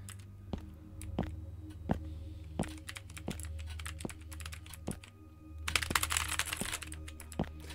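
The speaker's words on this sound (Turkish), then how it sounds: "Klavye sesi rahatsız ediyor mu?" Keys clack on a computer keyboard in irregular bursts, close and fairly soft, over a low steady hum, with a denser flurry of typing toward the end.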